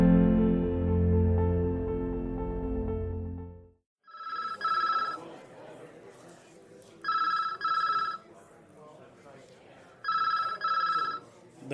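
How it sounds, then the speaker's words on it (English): A telephone rings in a busy police station, three spaced bursts of a bright electronic double-trill ring after a stretch of low music, with a murmur of background activity between rings. "The phone rings yet again in the busy precinct."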